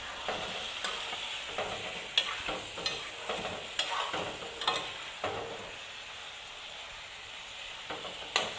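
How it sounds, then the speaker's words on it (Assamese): Chicken pieces frying for a curry hiss in a constant sizzle, with regular scraping stirs every second or so, close and alone with no voices. "এতিয়া মাংসখিনি আমি ভালদৰে ভাজি ল'ম।"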